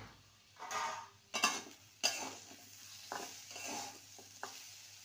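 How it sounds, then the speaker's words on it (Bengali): A lid lifted off a pan of potatoes cooking for a potato chorchori, with a few sharp metallic clinks and scrapes over a soft, steady sizzle nearby. "ঢাকনাটা খুলে দেখে নেব"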